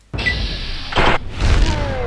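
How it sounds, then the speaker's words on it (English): Explosions in the video game Fallout 3 (modded), a sharp boom at the start followed by two more broad blasts with rumbling tails, loud and fairly close. "What was the explosion?"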